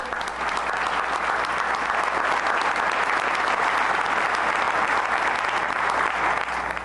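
Loud, sustained applause from a large crowd at the New York Governor's State of the State address, a dense wash of clapping that holds steady throughout.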